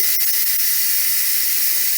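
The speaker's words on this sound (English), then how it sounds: "I'm going to move the steam release handle to venting carefully" Steam hisses steadily and loudly from an Instant Pot pressure cooker whose release valve has been turned to venting, a continuous close rushing sound with no talking.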